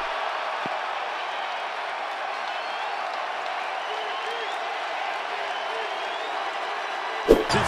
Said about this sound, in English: the crowd erupts again here in Chicago